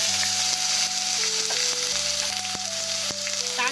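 Chopped tomato sizzling in hot oil with cumin, dried red chilli and garam masala for a vegetarian banana-flower dish, a steady close frying hiss with a background musical tone running under it, no talking.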